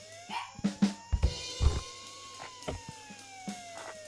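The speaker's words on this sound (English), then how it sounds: "I heard my dog barking." A dog barks in several sharp, scattered yelps and barks over a few seconds, moderately close, while a steady electronic tone hums underneath and no one speaks.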